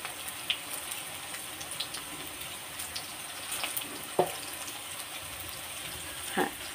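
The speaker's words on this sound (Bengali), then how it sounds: "পানি অ্যাড করে দিয়েছি" Water added to a spiced curry with gram flour in a pan gives a faint, steady trickle and hiss with a few soft splashes and clinks, heard close but low.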